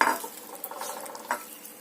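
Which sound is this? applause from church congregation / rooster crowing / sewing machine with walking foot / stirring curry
stirring curry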